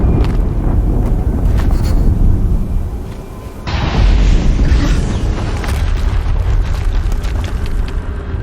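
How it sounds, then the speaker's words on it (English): Explosion in the Horizon Zero Dawn video game: a sustained loud rumbling roar that swells sharply partway through and keeps thundering, close and dense with no voices over it. "Explosion."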